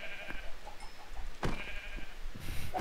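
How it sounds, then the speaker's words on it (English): Sheep in the Minecraft video game bleating repeatedly in a faint, intermittent chorus of short cries over a quiet background. "I just found like a group of sheep."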